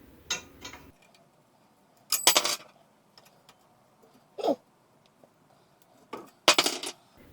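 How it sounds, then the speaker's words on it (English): Small clicks and metallic rattles come from a bottle cage being pulled off a neglected 1988/1989 Specialized StumpJumper mountain bike, in several short separate bursts with quiet gaps between them. "Let's pull off this cool little bottle cage"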